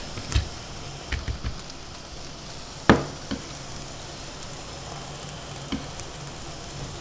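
Onion and garlic frying in hot oil in a pan, a steady close sizzle running throughout, broken by a few sharp knocks and clatters of utensils against the pan.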